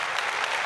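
A short, dense burst of applause, a steady wash of clapping filling the whole moment with no voices on top.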